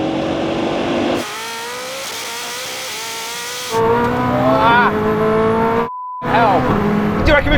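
A Bugatti Chiron Super Sport launches in a drag race against a Koenigsegg Jesko Absolut, its engine note climbing through several gear shifts with brief breaks between them, loud and sustained, with excited voices shouting over it.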